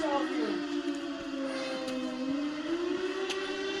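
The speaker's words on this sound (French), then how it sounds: "Ah, la sirène est en route." Civil defense siren sounding during its monthly test, a loud sustained wailing tone that slowly rises and falls in pitch, heard outdoors with faint street background and no talking over it.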